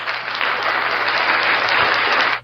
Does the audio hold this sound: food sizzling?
no